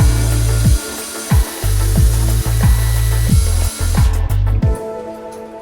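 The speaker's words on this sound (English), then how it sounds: "using my drill, I'm going to make a pilot hole" A power drill boring a pilot hole into a window frame for a roller blind bracket, loud and close, in repeated short bursts with brief pauses between, the motor pitch sliding as each burst spins up and down.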